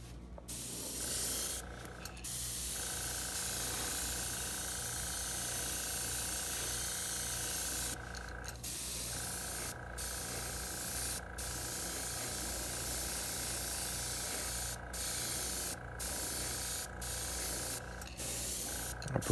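An airbrush sprays gold paint onto a custom walleye lure, a steady close hiss that runs nearly the whole time and is broken by a few short pauses, with no talking.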